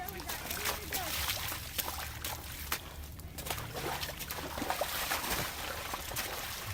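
Running shoes slosh and splash through mud and pools of water on a hilly outdoor trail course, a continuous wet, sloppy shuffling with scattered splats, heard from up close.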